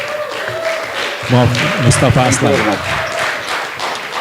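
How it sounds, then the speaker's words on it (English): Conference audience applauding after a professor's presentation, a burst of clapping that swells briefly while someone speaks over it. "Give an applause to Professor"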